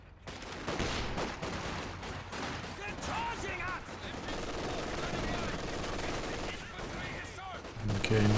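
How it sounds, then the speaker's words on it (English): Sustained machine gun fire and scattered gunshots from the World War II strategy game Company of Heroes 2, dense and continuous in a busy battle mix that runs steadily throughout. "nice machine gun locking down the centre for the Axis"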